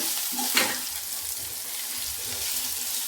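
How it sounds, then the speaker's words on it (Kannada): Tomato and onion tempering frying in oil on low flame, a dense close sizzle with a brief crackle early on, steady and without talk. "ಅದಕ್ಕೆ ಒಗ್ಗರಣೆ ಹಾಕ್ಬೇಕಲ್ವ, ಟೊಮೆಟೊ ಈರುಳ್ಳಿ"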